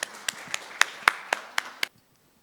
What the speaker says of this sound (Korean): 큰 박수로 환영해 주시기 바랍니다.